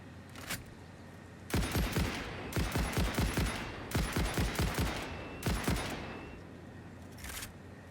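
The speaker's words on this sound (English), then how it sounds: "Not even a little bitty baby bit shooting all those bullets." Automatic gunfire in the video game Satisfactory: several rapid bursts of shots spread over a few seconds with short pauses between them, plus a couple of isolated single shots near the start and end, fairly loud with no talking.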